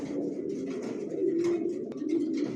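Racing pigeons coo continuously close by in a low, throaty murmur, with one brief click near the end.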